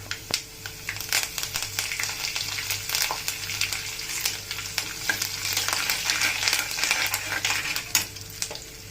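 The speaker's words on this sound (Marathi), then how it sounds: "मोहरी तळली की आपण जिरं टाकू। जिरं टाकू, कढीपत्ता टाकू" Mustard seeds, cumin and curry leaves tempering in hot oil for puffed-rice chivda, a close steady sizzle with sharp popping crackles and a few utensil clinks and stirring scrapes, without speech.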